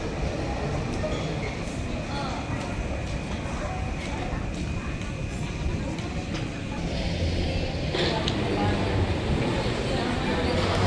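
Skytrain people mover at Singapore Changi Airport, heard as a steady rolling rumble with a broad hiss and faint squeals throughout, while people talk over it.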